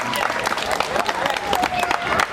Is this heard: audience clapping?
yes